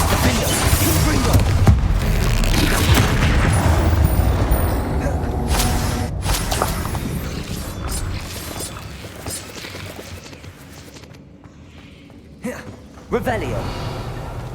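Hogwarts Legacy spellcasting: a dense run of booming, crashing magic blasts and impacts, loud and close, fading somewhat toward the end before a final sharp burst, with a voice calling out alongside.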